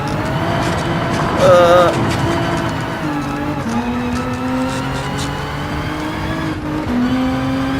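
All-wheel drive car engine in GT Sport racing, a steady droning tone with shifting pitch steps as it changes gears, a brief tire squeal early on, and a voice talking over it.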